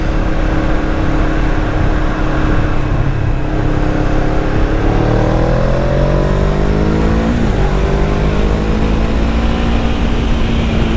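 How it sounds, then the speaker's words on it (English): A car fitted with an aftermarket exhaust drives along, a loud, steady engine drone heard from inside whose pitch sweeps upward as it accelerates, with no talking. "I don't know if that's just the aftermarket exhaust that the previous guy put on there"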